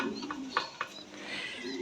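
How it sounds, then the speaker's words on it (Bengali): Pair of Bokhara tumbler pigeons, new adult male and female, cooing softly at close range in brief murmuring bursts over a steady background hum. "এটা একটা বসিয়ান টামলার, টপ কোয়ালিটি, নিউ অ্যাডাল্ট একটা পেয়ার"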